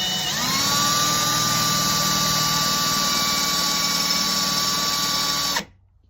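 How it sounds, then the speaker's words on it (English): A power drill bores a hole while a slingshot is being made, whining at a steady high pitch for about five seconds up close, then stopping abruptly into near silence. "So what you want to do is take your drill."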